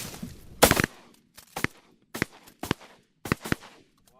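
Shotgun blasts ring out at ducks during a waterfowl hunt, with one loud close report followed by four sharper shots at irregular intervals, each fading quickly into quiet marsh air.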